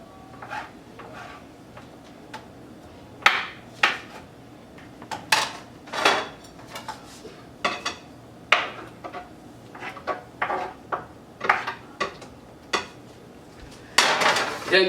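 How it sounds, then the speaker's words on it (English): A knife slices tomatoes for spicy Ghanaian food, making an irregular run of sharp, close taps and clicks against a cutting surface. Quiet pauses fall between the strokes, and no one talks. "And then I cut my tomatoes into slices."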